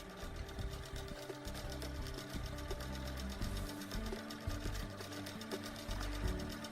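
A Handi Quilter quilting machine stitches fabric binding in a fast, steady mechanical rhythm, its needle chattering over a low motor hum, close up and unbroken, with no voices.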